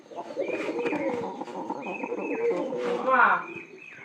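A pigeon coos close and loud in continuous, low, rolling phrases over a faint steady whistle-like tone in the background.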